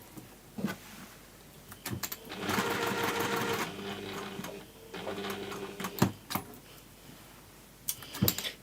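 Domestic sewing machine stitching a fabric gift bag, running in several short bursts of rapid mechanical whirring separated by pauses, with small clicks and handling knocks between runs, close and fairly quiet.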